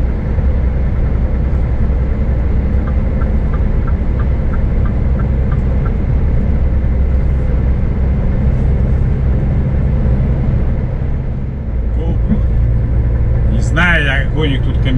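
Steady traffic rumble from cars driving along a road in France during a curfew, a continuous broad drone with passing vehicles and a brief dip near the end, with people talking throughout.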